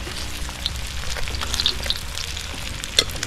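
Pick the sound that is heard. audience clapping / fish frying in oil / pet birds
fish frying in oil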